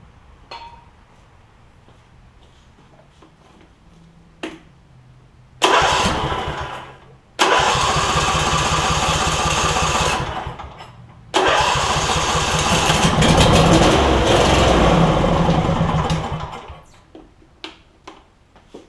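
A Briggs and Stratton engine on a John Deere E140 lawn tractor cranks and fires, cuts out, then restarts and idles loudly for several seconds before stopping.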